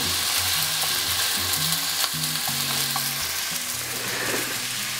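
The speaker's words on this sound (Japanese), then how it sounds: "焼きそばの麺を入れます。" Yakisoba noodles sizzle steadily in a hot pan for a Chinese-style stir-fry with squid legs, a loud continuous frying hiss over a low humming drone, close up and with no talking.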